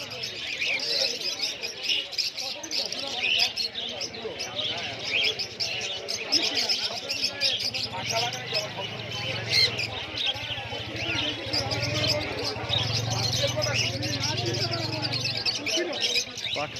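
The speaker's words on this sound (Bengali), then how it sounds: "এখানে বিভিন্ন রকম পাখি পেয়ে যাবে তোমরা," Pigeons and assorted birds crowded together at an outdoor pigeon market, giving steady chirps, tweets and cooing under a constant murmur of people talking nearby.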